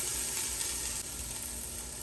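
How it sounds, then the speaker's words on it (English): Onion and garlic sautéing over medium-high heat in a pan for homemade vegetable soup, a steady dense sizzle that holds even and close throughout, with no voices. "Saute the onion for about 3 minutes."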